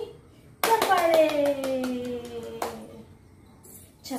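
Hands clap once sharply, then a quick series of claps rings on in a bright, echoing room during a children's finger-play activity; a voice sings along through the claps, and a voice is heard near the end.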